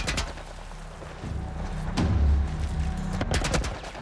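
A revolver gunshot in The Last of Us, a sharp broadband crack near the two-second mark followed by a low booming tail, with other sharp impacts later over a rumbling game background.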